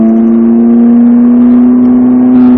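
A Ferrari F458 accelerates on the Speed Vegas race track, its engine holding a loud, close, steady high-pitched howl that rises slightly toward the end.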